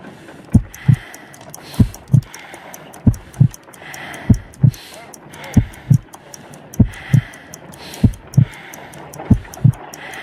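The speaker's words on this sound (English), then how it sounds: "I need to concentrate and count the heartbeats." Heartbeat in the Sherlock Holmes: Crimes & Punishments game: slow, steady double thumps, lub-dub pairs repeating about once a second, close and prominent over a faint hum and light high ticking.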